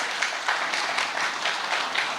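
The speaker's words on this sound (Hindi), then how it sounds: "पहले एक बार तालियां बजा दीजिए।" Crowd applause at a large religious gathering at the Maha Kumbh, honoring a spiritual leader; steady, dense clapping with small recurring swells, moderately loud throughout the short stretch.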